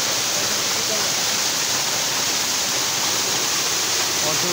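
Waterfall in the Ayodhya Hills of Purulia, a loud, steady, broadband rush of falling water that fills the whole stretch without pause, heard close up.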